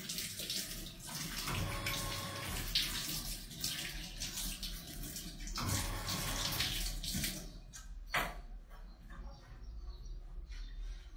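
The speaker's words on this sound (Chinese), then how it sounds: "好，收拾垃圾了嘛，所以说洗一下手。" Hands being washed under a running kitchen tap, a steady close rush of water with splashing and shifts in flow, ending in a few drips and clunks as it stops.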